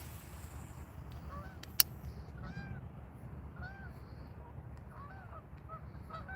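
Geese honk several times at a pond in spring nesting season, the calls faint and distant over steady outdoor background noise, with one sharp click partway through.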